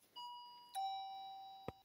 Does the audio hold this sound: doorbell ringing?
yes